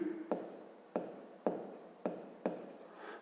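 A pen writes on paper while a fifth-grade maths exercise is worked through, five short scratchy strokes at a steady pace, close and quiet.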